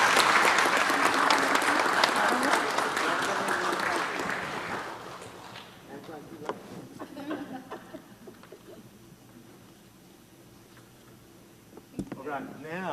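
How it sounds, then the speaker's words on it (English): Applause from a city council meeting audience honoring a Citizen of the Month, loud and sustained for about five seconds, then fading into a quieter room with scattered talk and movement. "Let's give her a big round of applause"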